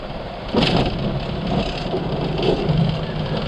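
Airliner engines roar in reverse thrust just after touchdown, heard from inside the cabin as a loud, steady rumbling surge that swells and holds, with no talk over it.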